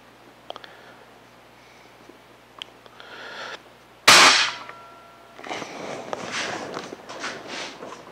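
A Walther Talon Magnum .177 air rifle fires one sharp, loud shot, preceded by a few faint clicks and handling noises and followed by rustling movement.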